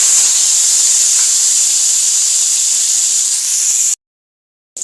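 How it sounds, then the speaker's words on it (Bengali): Hog plums and five-spice seeds sizzle in hot oil for an amra chutney, giving a loud, steady frying hiss that runs unbroken for about four seconds before cutting out abruptly. "এবার এর মধ্যে তেল দিয়ে দেবো। দিয়ে দেবো 5 ফোড়ন। আমড়াগুলোকে দিয়ে দেবো।"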